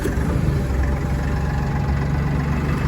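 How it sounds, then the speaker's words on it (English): A Massey Ferguson 1835M compact 36 hp utility tractor engine runs at a steady idle, a continuous low diesel rumble that stays loud and close throughout with no talking over it. "I'm going to start the tractor up and I'm going to demonstrate what I mean by that."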